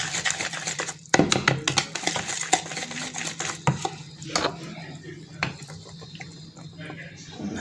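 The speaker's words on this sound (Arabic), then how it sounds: "احط حبه حبه واقلب،" Cake batter of flour and baking powder being stirred in a bowl for a custard cake gives repeated close scraping and clinking strokes with sharper knocks, steady throughout with some faint background noise.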